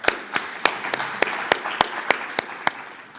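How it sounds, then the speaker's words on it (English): Applause at a TFAA Centex meeting: a thin, soft round of clapping with distinct sharp claps spaced roughly evenly, as if from a small group, moderately near and with no talking over it. "Let's give him a round of applause."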